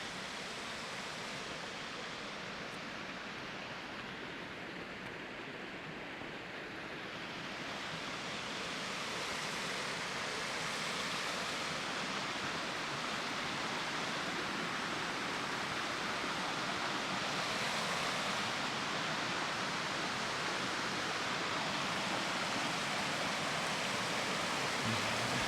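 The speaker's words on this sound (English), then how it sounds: "The water's definitely very active today. Very active. It's not usually this loud." Loud, constant rushing of a fast-flowing stream in a state park, a broad steady roar with no talking.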